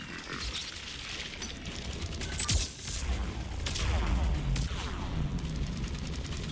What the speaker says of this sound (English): The turret is shooting you.